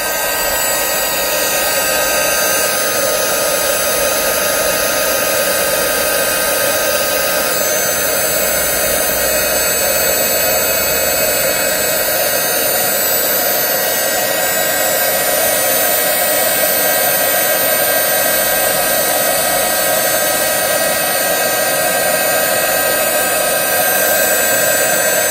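A craft heat gun heating Cosmic Shimmer Fluffy Stuff glitter, a loud, steady, close-up blowing roar with a high whine that runs unbroken throughout.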